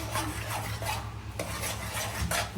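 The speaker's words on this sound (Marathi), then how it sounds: "आणि ॲड केल्यानंतर याला मिक्स करायचं आहे" Maggi noodles are stirred in a pan with repeated scraping strokes, a close, rough rhythmic rasp of utensil against metal over a soft sizzle.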